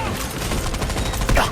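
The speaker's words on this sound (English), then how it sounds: "Artillery barrage incoming." An artillery barrage in the mobile shooter game Delta Force Mobile, a dense rumbling roll of rapid explosions and gunfire, loud and continuous, with a heavier boom near the end.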